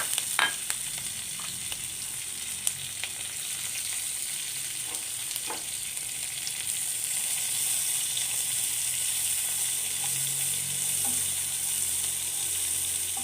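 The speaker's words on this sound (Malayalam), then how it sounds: "ബാക്കി എണ്ണ ചൂടാക്കിയിട്ട് അതിലേക്ക് ഒരു 2 കറിവേപ്പില, ഒരു 2 പച്ചമുളകും 1 സവാള അരിഞ്ഞതും കൂടെ ഇട്ട് കൊടുക്കാം" Chopped onion, curry leaves and green chillies sauté in hot oil for a fish (anchovy) dish, a continuous close sizzle and crackle with a few faint clicks and light stirring scrapes, no voices.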